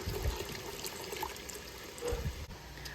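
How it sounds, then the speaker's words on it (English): Water poured from a kettle into a stock pot for a waterbath canner while making strawberry jam, a faint, steady trickling and splashing with a few small clinks, with no talking. "I'm going to go ahead and add another kettle of water to my stock pot"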